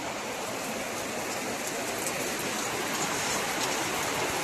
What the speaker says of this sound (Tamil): மழைங்க, சரியான மழைங்க, சரியான மழை.